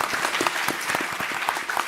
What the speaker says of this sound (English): So I would like us all to just give each other a round of applause.